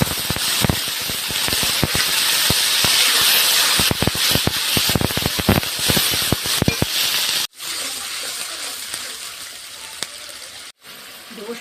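Bhola fish curry spice paste hitting hot oil in a pan, giving a loud, steady broadband sizzle with crackling pops that continues for several seconds before briefly cutting out twice.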